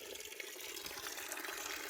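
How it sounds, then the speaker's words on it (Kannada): Spring water flowing out of rock inside a temple cave near Chikkamagaluru, a constant soft rushing and splashing trickle, fairly faint and steady, with no voices. "ನೋಡಿ ನೀರೆಲ್ಲಿಂದ, ಕಲ್ಲೊಳಗಡೆಯಿಂದ ಹೆಂಗೆ ಬರ್ತಾ ಇದೆ ನೋಡಿ."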